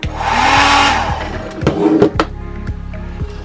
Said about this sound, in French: Un sèche-cheveux.